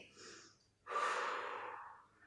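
Breathing during an abdominal strengthening exercise done in a plank position: a soft, airy inhale, then a louder, longer exhale that fades out, close and with no talking.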